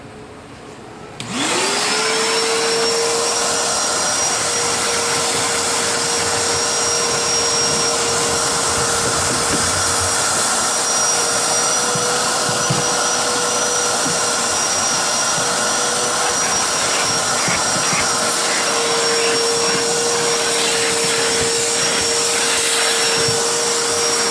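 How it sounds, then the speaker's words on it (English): A vacuum cleaner starts up and runs steadily at close range while cleaning a car interior during auto detailing, a loud continuous whine with a high steady tone, no talking. "I'll do just a general vacuum"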